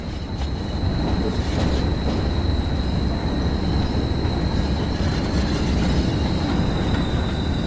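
A freight train in Train Sim World 4, hauling a load of sleepers, rolls steadily along with a continuous low rumble of wagons and wheels and a faint high squeal, loud and unbroken throughout.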